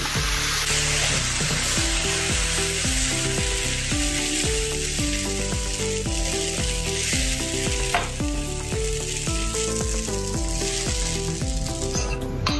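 Rice and puffed rice dosa batter sizzles loudly and continuously on a hot pan with no oil, the frying hiss steady over background music.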